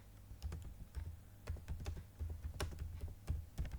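Someone types on a computer keyboard to search for a plugin, producing a quick irregular run of close key clicks with brief pauses and no voices.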